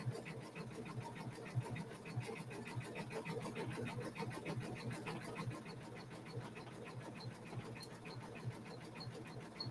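Embroidery machine sewing a satin stitch on a winter tree quilt block, a continuous close rapid needle rhythm with a low motor hum, steady throughout and not loud.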